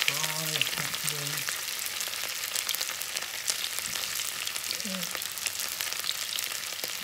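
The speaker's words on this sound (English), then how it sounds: "Lovely little shallow fry happening" Potatoes shallow frying in hot fat, a continuous close crackling sizzle with a few brief stirring sounds near the start and middle.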